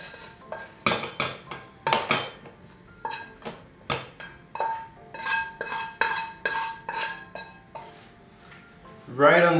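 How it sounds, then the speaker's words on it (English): A pan and metal utensils clink and scrape in repeated quick bursts while cooked tempeh is lifted out of the pan, with a louder sizzle-like rush at the end. "When the tempeh is good, let's take it out of the pan."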